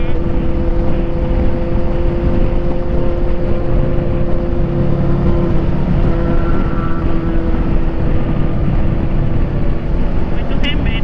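A motorcycle ridden on a road trip in Pernambuco, Brazil, gives a continuous engine drone heavily mixed with rushing wind noise on the microphone, steady and loud throughout.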